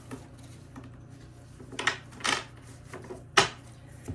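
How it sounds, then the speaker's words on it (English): Tarot cards are shuffled in a few quick riffling bursts, close and crisp, over a low steady hum. "Get a couple more shuffles"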